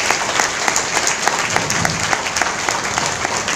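An audience at a spiritual talk in Kalyanpur claps in welcome: sustained, lively applause from many hands, loud and close, with crisp individual claps rising over a continuous patter.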